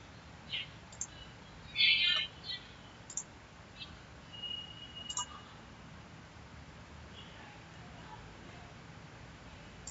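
A few sparse computer mouse clicks, faint and close, sit over a quiet room hum. A short burst of clicking comes near the two-second mark, and there is no talk.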